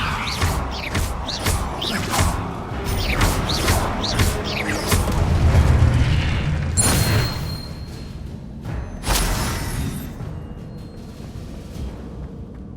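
Confringo blasting spells burst in Hogwarts Legacy, a series of loud booms and crashing impacts with whooshing spell casts, rising to heavier blasts midway and then several sharp explosive hits.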